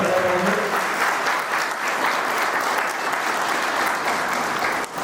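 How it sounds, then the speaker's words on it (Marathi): Loud, sustained applause from a large crowd at a Marathi book launch ceremony, steady dense clapping filling the whole stretch and dipping only briefly near the end. "टाळ्या जोरदार मिळाल्या."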